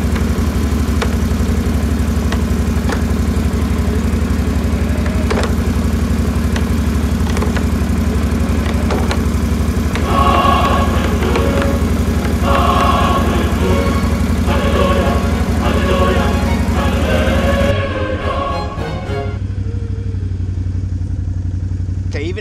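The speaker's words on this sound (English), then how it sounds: "Let's see if it will engage low gear without having to slam it in." A Can-Am Outlander 570 XMR ATV engine runs steadily in low gear with a loud, even mechanical drone and some clatter, then drops to a quieter, lower idle near the end.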